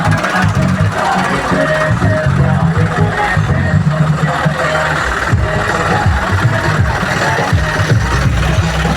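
A long convoy of tractors idles and rumbles with engines running at a village political rally, a dense low mechanical drone that stays steady throughout, with voices mixed faintly into the noise.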